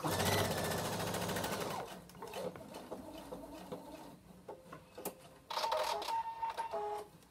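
Domestic sewing machine stitching flat through fabric for a zippered pouch, a steady rapid mechanical whirr for about two seconds, then quieter intermittent bursts and a final short stitching run near the end.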